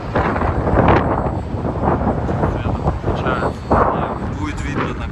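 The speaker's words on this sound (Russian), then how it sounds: "Ветер дует." Steady wind roars and buffets the microphone throughout, with low rumbling gusts swelling and easing under occasional faint voices.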